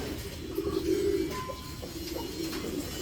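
Pigeons coo nearby in low, soft, rolling calls, one longer burst and then a quieter repeat against faint background noise.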